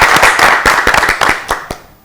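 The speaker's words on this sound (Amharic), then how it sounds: "በድጋሚ ለሶስቱም አጨብጭቡላችሁ በደንብ።" Studio audience at a children's Easter quiz competition claps for three contestants, a burst of sharp, uneven handclaps that thins out and fades after about two seconds.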